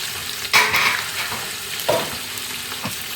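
Shallots, garlic and green chili sautéing in oil in a pan for fish curry, a soft steady sizzle broken by a few louder stirring scrapes and clinks, with no voices.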